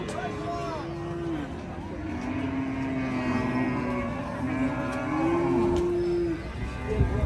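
Several long, low moos from bulls at an outdoor cattle market in cold weather rise over a busy crowd, with voices murmuring throughout and another animal calling near the end.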